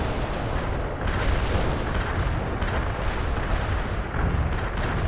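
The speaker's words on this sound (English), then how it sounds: "Firing at coordinates. Enemy units in target area got hit hard." Artillery barrage in the World in Conflict video game, a continuous rumbling roar of distant shell impacts and blasts, with heavier booms landing roughly every second, loud and dense without speech.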